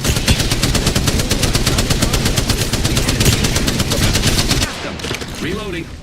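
Rapid, loud automatic gunfire rattles continuously in a video game battle for several seconds, then cuts off and gives way to quieter game sounds and a brief voice.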